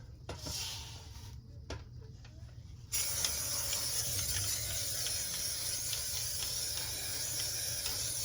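A spray can of undercoating hisses onto the underbody of a Jeep Wrangler, starting with short bursts and then settling into a long, steady close spray with faint rattling.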